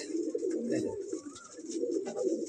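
Madrasi pigeons in a breeding loft give a close, continuous throaty cooing that rolls in waves, with faint higher chirps scattered above the steady burble.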